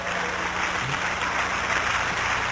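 A church congregation at a New Year revival service claps together, a dense steady wash of applause filling the whole moment with no break.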